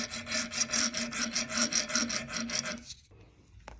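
A bolt being cut by hand to about 1 3/4 inch length while fitting a motorcycle phone mount, giving a steady, rhythmic rasping of repeated saw or file strokes for about three seconds before stopping.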